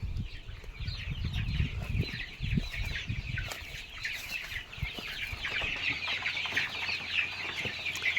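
Free-range desi chickens cluck and murmur close by on a small poultry farm, with a few low thumps and rustles early on, then a busy chorus of clucks continuing over a faint steady hum.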